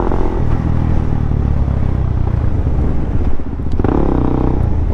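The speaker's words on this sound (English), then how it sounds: "The wind's whipping." Strong wind buffets and roars across a high mountaintop near an observatory, a loud, continuous rumbling gust with flapping bursts hitting close by.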